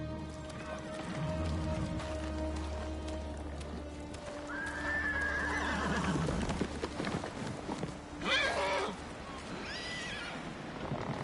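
A horse whinnies loudly over steady clip-clopping hooves in Ghost of Tsushima, with a second shorter neigh following amid background music and game ambience.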